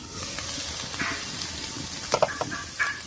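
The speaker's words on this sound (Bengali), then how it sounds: "এবার ঢাকাটা তুলে সব মশলাগুলো দিয়ে দিচ্ছি, বাটা মশলাগুলো।" Ground spice pastes, ginger-garlic and chilli paste, hiss and sizzle as they drop into a pan of banana tree curry in a village kitchen, a steady soft frying bed with a few brief sharper crackles and stirring clinks.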